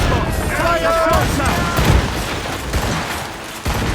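Ship cannons fire during a naval battle in Assassin's Creed Rogue, with heavy booming shots cracking out amid the clatter of battle while crew voices shout over the din.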